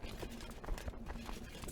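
Rapid hoof clip-clop of horse archers riding in the strategy game Crusader Kings II, a dense quick rhythm over a busy background with a voice talking over it.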